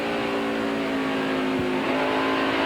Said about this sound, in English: Hear the engine rev?